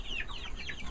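Backyard chickens in a mobile chicken run cluck in a quick series of soft, chirpy calls, faint and close, without any talk.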